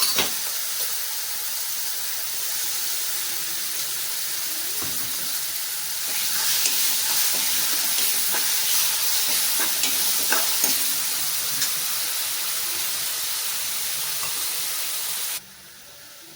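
Tomato, onion and masala fry in a pan for a bombay chutney, giving a loud, steady sizzle and hiss with occasional stirring scrapes that drops in level near the end.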